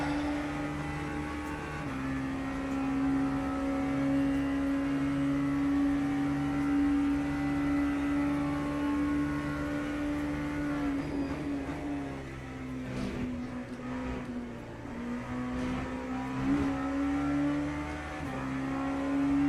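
A race car engine in the Le Mans Ultimate sim, on a banked oval, holds a steady high drone that dips and climbs with gear changes and throttle, continuous and fairly loud with no talk.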